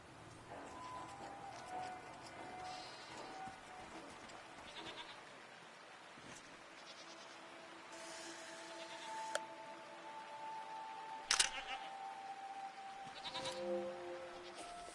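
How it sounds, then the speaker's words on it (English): Strange goat-like creatures in the video game SEASON give a few soft bleats over quiet ambient game sound, with brief sharper calls near the end. "What are these strange goat-like creatures?"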